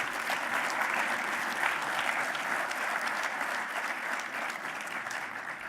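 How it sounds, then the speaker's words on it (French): Steady audience applause fills a conference hall after an opening talk at a roundtable on governance and resilience, dense and even throughout with no voices standing out. "Mais on peut l'applaudir."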